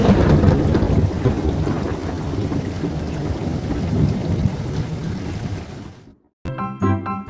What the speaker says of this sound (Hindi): इतने में तेज आंधी चली और बारिश होने लगी।